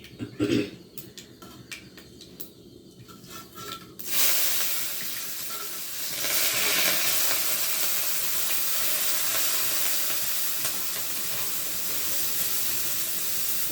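A tempering of dried red chili, lightly crushed unpeeled garlic, onion and curry leaves hits hot oil, starting with a few soft clicks and taps before erupting into a loud, steady hissing sizzle that holds to the end.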